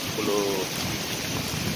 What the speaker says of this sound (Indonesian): hujan lebat mungkin agak lama ke depan